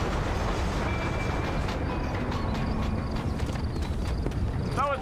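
A horse gallops in Red Dead Redemption, its rapid hoofbeats running steadily under game ambience and a brief vocal sound near the end.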